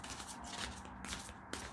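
Large tarot cards are shuffled by hand, giving quiet riffling swishes with a couple of sharper card snaps, close and faint.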